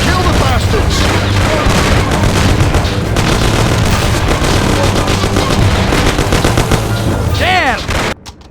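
A sustained firefight in the Mafia video game, with rapid bursts of machine-gun and pistol fire packed densely and loud throughout, ending in a final shot and a brief quiet.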